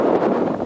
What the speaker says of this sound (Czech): A nějak vítr!